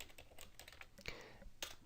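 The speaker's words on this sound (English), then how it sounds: "press the enter key once I finish typing" Quick, uneven keystrokes on a computer keyboard while entering business data into an Excel 2010 spreadsheet, with close clicks and a few heavier taps, no voices.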